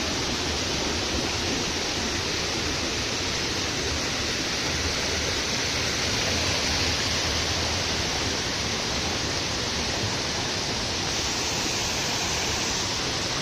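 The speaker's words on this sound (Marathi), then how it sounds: "फायनली पोचलो खाली धबधब्याजवळ" The Savatkada waterfall near Rajapur in the Konkan roars powerfully and continuously, a dense, even wall of rushing water with no pauses or voices.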